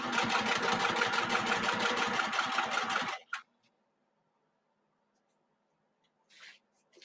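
A sewing machine stitches steadily for about three seconds with a fast, even mechanical whir and tick, close up. It then stops abruptly, leaving near silence broken by small handling clicks.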